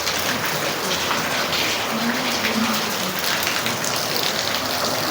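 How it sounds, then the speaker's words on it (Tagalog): Heavy rain pours steadily, a dense continuous hiss of drops drumming on surfaces at a nearby outdoor spot where a bike is being cleaned, loud and unbroken throughout. "Ang lakas kasi ng ulan eh."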